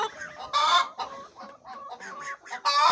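Hens cluck and chatter nearby in a farmyard, with several bursts of louder squawking among steady, irregular clucks.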